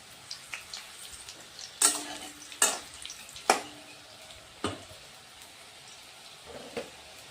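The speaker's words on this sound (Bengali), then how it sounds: "এই জন্য একদম কম আঁচে ভাজতে হবে, মিডিয়ামে রেখে ভাজতে হবে, একটু টাইম নিয়ে ভাজবে।" Jackfruit and prawn koftas fry in oil over medium-low heat, with sharp spattering pops and crackles at irregular intervals over a faint background sizzle, close by and without talk.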